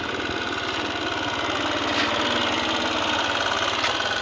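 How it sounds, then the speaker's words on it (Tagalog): A motorcycle engine idles steadily outdoors on a mountaintop after a landslide-damaged road, a continuous close low rumble with even pulsing throughout, no talking. "So ito yung motor ko."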